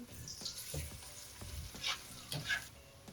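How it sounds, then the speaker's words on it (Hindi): Garlic and ginger paste sizzles and fries in a pan, with a spoon scraping and stirring in irregular strokes. "अब इसके अंदर हम डाल देंगे लहसुन अदरक का पेस्ट। अब 1 मिनट तक इसको भूनेंगे।"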